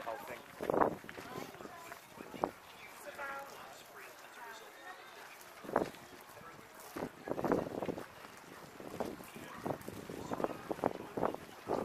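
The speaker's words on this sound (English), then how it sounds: "it's quite windy up here" Strong wind sweeps a hilltop at Corfe Castle, buffeting the microphone in irregular gusty bursts that rise and fall, with a person talking in between.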